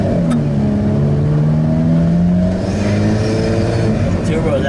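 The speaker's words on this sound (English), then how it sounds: "Turbo is actually kicking in." An Alfa Romeo 4C's engine revs hard from inside the car as the turbo builds, a loud steady drone with rising and falling tones over nearly five seconds.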